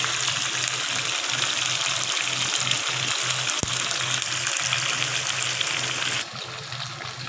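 Chicken pieces frying for a chicken roast, a steady dense sizzle of hot oil in a pan that runs unbroken and close, with one brief click midway and a slight drop in intensity near the end.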